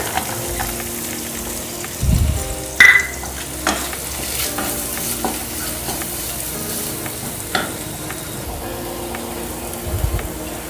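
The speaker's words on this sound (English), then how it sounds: "add some onions, some pink and white onions, some garlic," Pink and white onions and garlic sautéing in a pan, a steady close sizzle with a few louder scraping stirs and spoon knocks, no voices.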